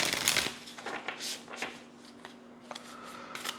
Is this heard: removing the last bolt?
no